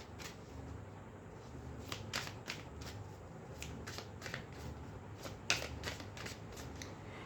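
Tarot cards are shuffled nearby in a quick run of crisp riffling bursts, each one short and papery, with brief pauses between them and no voices.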